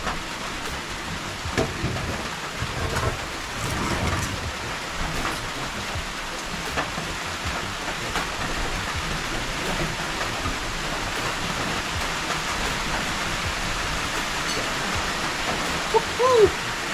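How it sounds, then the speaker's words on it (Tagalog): Steady rain falls outdoors during woodworking, a dense, even hiss with no break throughout. "Sige, ulan pa."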